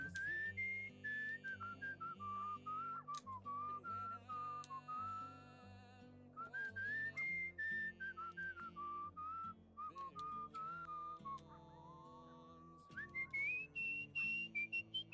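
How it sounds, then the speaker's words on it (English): Melodic in-game whistling from a character in the video game Where the Water Tastes Like Wine, a steady tune of clear warbling notes running almost continuously over soft background music, with brief pauses and no talking. "I love the little whistling. It's very cute."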